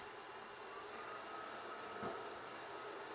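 A Tineco wet-dry floor cleaner runs in turbo mode with a steady, even whirring hum of motor and suction, faint and continuous, with a brief low thump near the end.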